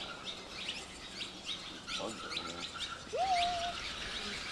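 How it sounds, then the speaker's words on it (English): Birds chirp and tweet inside a cenote cave in the Yucatán, Mexico, a busy scatter of short calls echoing around the space with one clear rising whistle near the end. "Oh no, those are birds, they're not even bats."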